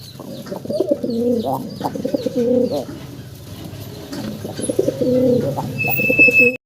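Pigeons coo in soft, repeated rolling phrases close by, with faint chirps and light rustling around them and no talking.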